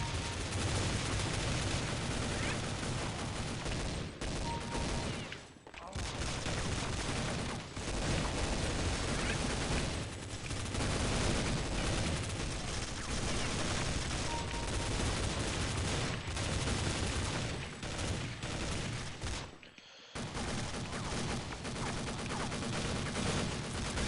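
Sustained AK rifle fire in Counter-Strike: Condition Zero, loud dense bursts and volleys running almost continuously, with a couple of brief pauses between strings of shots.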